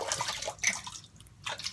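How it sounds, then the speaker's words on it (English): Artisan soap bloom water is poured out of a container at close range, giving short splashing, trickling bursts with a brief pause in the middle. "I'm going right now to pour out some of this and use some of the Bloom water to get a little bit going on my face"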